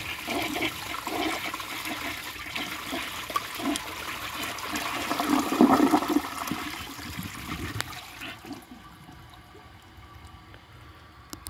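A 1965 Nationaline toilet flushes with a loud rushing swirl of water for about eight seconds, then drops to a quiet trickle as the tank refills.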